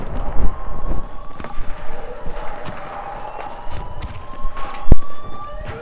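A wailing siren inside a first-person shooter video game rises and falls in the background, mixed with footsteps, gunfire-like thuds and game effects, fairly loud and continuous.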